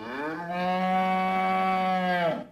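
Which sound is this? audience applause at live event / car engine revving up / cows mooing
cows mooing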